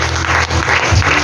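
Church congregation applauding together during a French-language worship service, a dense burst of steady clapping filling the room with no voices over it.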